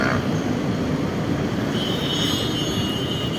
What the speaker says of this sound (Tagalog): Parating na siya sa Central Station ang LRT.